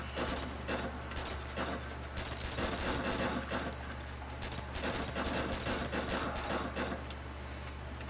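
Steady stream of gunfire from shooting zombies in Call of Duty: World at War zombies mode, dense overlapping shots and bursts at a constant level throughout, with game sounds mixed in.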